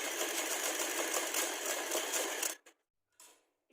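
A sewing machine runs steadily while stitching the sleeves of a girls' top, a dense continuous whirring for about two and a half seconds, then it stops and one brief short burst follows after a pause.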